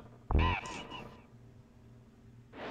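A bird caws in Donkey Kong Country: one loud, harsh crow-like call near the start, then quiet game ambience with a faint new sound rising at the end.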